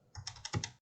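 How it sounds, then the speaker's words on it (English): Quick clicks of a computer mouse while selecting parts of a J-hook model in DesignSpark Mechanical CAD software, several short taps in a fast, close burst with no talk. "And we're going to click"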